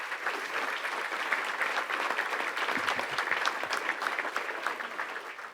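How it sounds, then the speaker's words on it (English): A crowd at the Broyles Award ceremony applauds steadily for the event's sponsors, a dense, even wash of clapping that sounds moderately distant. "give all of our great sponsors a round of applause"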